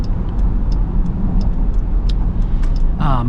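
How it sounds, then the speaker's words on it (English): A steady low road rumble fills the cabin of a 2026 Dodge Durango or Jeep Grand Cherokee L while driving, broadband and constant, with a brief voice near the end. "I feel like the cabin noise is pretty similar to the Jeep"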